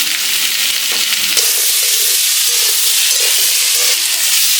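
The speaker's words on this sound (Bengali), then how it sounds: "আলু আর কুমড়ো ভাজা" Potato and pumpkin pieces fry in oil in a wok, giving a steady, loud broadband sizzle throughout with some faint clinks and stirring scrapes early on.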